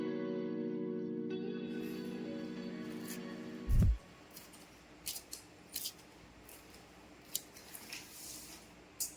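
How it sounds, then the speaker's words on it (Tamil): Scissors cut through grow bag material, making several crisp, separate snips close by after a sustained musical tone fades out, followed by quieter rustling of the fabric. "அந்த அளவு வச்சு இன்னொன்று கட் பண்ணிக்கலாம்"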